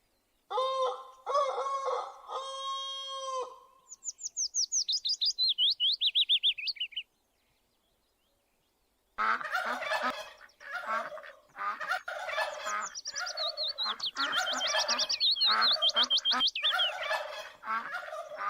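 Turkeys and hens in a zoo enclosure: bursts of loud rattling gobbles and high chirping calls, then a few seconds of silence, followed by a dense stretch of overlapping clucks and gobbles close by.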